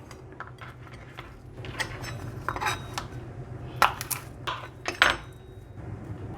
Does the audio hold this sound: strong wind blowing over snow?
no